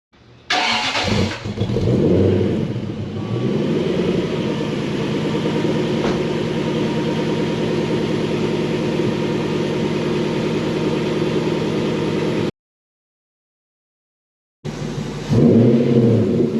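Lexus GS400 V8 with newly installed headers cold-starts and settles into a loud, steady idle with a deep rumbling exhaust note, cutting out briefly near the end before the engine noise returns.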